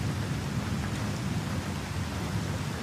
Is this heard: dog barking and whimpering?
no